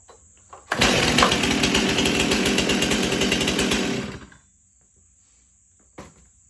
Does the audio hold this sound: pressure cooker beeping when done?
no